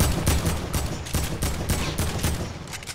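Rapid bursts of gunfire in the video game Fortnite crack out in quick succession, several loud volleys packed into a few seconds with no voices over them.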